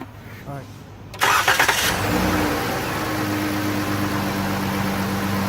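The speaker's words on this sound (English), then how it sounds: "Okay, car is running." A car engine cranks and catches, revving briefly before settling into a steady idle nearby.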